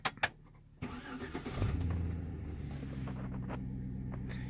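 A Hummer H3T Alpha with a 5.3 GM V8 starts from inside the cab: a few clicks, then the starter cranks and the engine catches with a loud exhaust flare before settling into a steady, rumbling idle.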